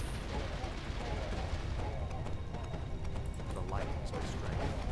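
A fire trap fires in a Warcraft 3 tower-defense map, with dense, rattling mechanical bursts and crackling impacts layered over constant game noise while a voice talks underneath.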